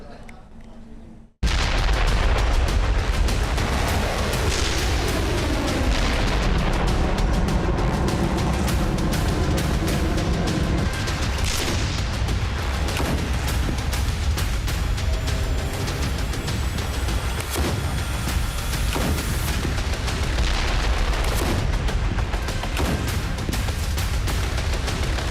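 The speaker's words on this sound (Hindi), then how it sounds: "आग उगलती तोपें, दिन रात गरजते टैंक" Heavy, continuous booming and rumbling of artillery fire in the Israel–Hamas war in Gaza, loud and dense, with repeated blasts layered over a constant roar after a short quiet start.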